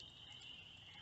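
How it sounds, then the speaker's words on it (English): Frogs croak at night at a campsite, a faint continuous chorus with a steady high trill, heard alone for a brief moment. "you can certainly hear the frogs croaking."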